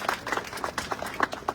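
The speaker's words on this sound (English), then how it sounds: "You can give her a round of applause." Brief applause for a representative at a SEPTA rally press conference at Chester Transportation Station, a short burst of uneven claps from a modest crowd nearby.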